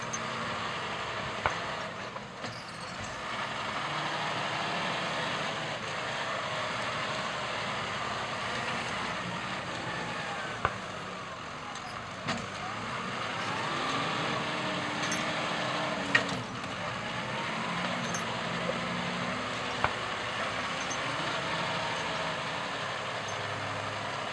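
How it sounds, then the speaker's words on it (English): A loading shovel smoothing and profiling the edges of a nature reserve scrape gives a steady heavy diesel engine drone, with occasional clanks and shifts in pitch as the machine works, continuous and moderately distant. "an alternative use for the loading shovel helped us smooth and profile the edges of the scrape"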